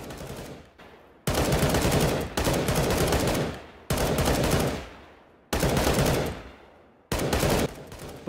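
Rapid gunfire from CSGO aim training comes in several loud, sharp automatic bursts, each a second or so long with short silent gaps between, close and harsh with ringing tails.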